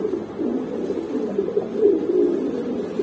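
Kaldom pigeons coo steadily at a pigeon farm, a continuous low, warbling murmur from several birds close by, with no talk over it.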